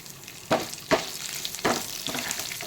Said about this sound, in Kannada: ಹದವಾಗಿ ಕಡಿಮೆ ಬೆಂಕಿಯಲ್ಲಿ ಹುರಿದುಕೊಳ್ಳಿ.